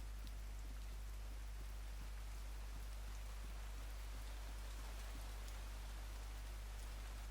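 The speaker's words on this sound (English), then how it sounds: "It's raining really badly." Steady, soft rainfall in The Division 2 hisses evenly throughout, with a constant low hum underneath and no voices.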